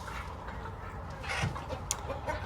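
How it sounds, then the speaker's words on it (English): Roosters cluck and murmur in a busy coop, a low continuous mix of fowl sounds with a few sharper calls near the end. "I actually have 5 roosters in here"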